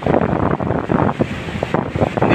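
Strong ocean waves surging during kite flying on a windy shore: a loud, continuous rushing roar mixed with heavy wind buffeting the microphone, with no voices.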